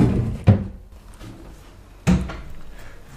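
Two wardrobe drawers of a built-in unit in a rented apartment bedroom are pushed shut, giving two separate close wooden thunks about a second and a half apart, with quiet room tone between.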